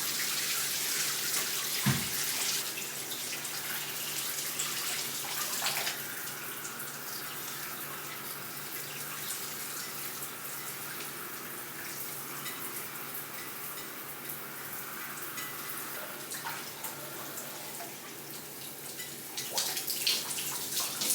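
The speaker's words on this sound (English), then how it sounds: "So rinsing the shampoo out, I'm just making sure that I get all the products out of my hair" Water runs steadily while shampoo is rinsed out of curly 3C/4C hair and braids, a continuous close splashing rush with a brief knock near the start and slight swells toward the end.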